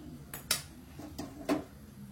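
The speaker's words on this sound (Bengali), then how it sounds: "আর কড়াইটা বসিয়ে দিলাম" A wok clanks onto a lit gas stove, making a few light metallic knocks and scrapes in quick succession, close and moderately loud with no talking.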